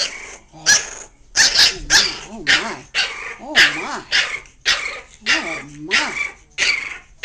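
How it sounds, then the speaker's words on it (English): A bulldog growls and barks in a rapid series of loud, close, rhythmic bursts, with whimpering yips mixed in, while people talk over it. "Oh, he's a fierce bulldog."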